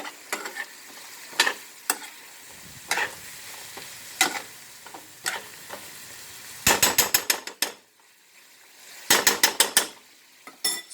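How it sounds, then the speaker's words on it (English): A spoon stirs homemade vegetable soup with Italian seasoning in a pot, scraping and clinking in short bursts with quiet gaps, two faster runs of rapid scrapes standing out later. "And we are going to give our mixture here a little stir."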